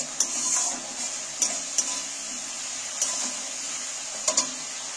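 Spice paste stir-fried in a pan with chilli for a mula recipe, a soft steady sizzle punctuated by several sharp metallic taps and scrapes of a spatula against the pan.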